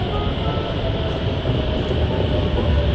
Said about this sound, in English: and watching the train.